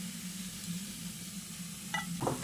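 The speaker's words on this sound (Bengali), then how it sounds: "ভাজা আলুগুলো দিয়ে মশলার সঙ্গে ভালো করে নেড়েচেড়ে মিশিয়ে নিচ্ছি।" Fried potatoes are stirred into masala of softened tomatoes in a pan for a soybean curry, giving a soft continuous sizzle. A couple of brief scraping stir sounds come near the end, quiet and close, with no one talking.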